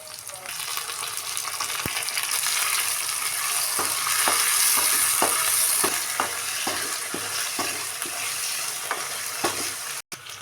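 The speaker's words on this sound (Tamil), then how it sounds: "வெங்காயம் நல்லா பொன்னிறமாக ஆகிற வரைக்கும் நம்ம மிக்ஸ் பண்ணிக்கலாம் ஃப்ரெண்ட்ஸ்" Onions frying in a pan as they are stirred, a steady loud sizzle broken by a regular series of sharp utensil clicks and scrapes against the pan, close by.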